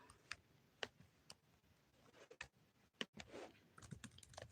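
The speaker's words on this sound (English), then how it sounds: "Typing." Quiet typing on a computer keyboard, scattered soft clicks and taps at an irregular pace, close but faint, with no talking.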